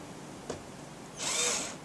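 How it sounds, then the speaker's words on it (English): A brief click, then a short burst of high-pitched whirring as a cordless drill drives a screw for about half a second while building a chicken coop, close and fairly quiet. "you'll have to screw it in using either a cordless drill"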